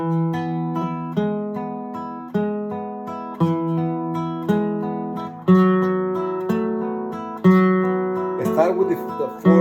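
A guitar plays a fingerpicking pattern, the index finger adding the second string, in clear repeating plucked arpeggios that ring out alone at a steady, moderate pace.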